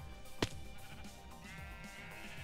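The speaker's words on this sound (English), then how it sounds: "I looked up, and there's just a brown sheep chilling" A sheep bleating once in Minecraft, a short sharp bleat near the start, followed by quieter game background sounds.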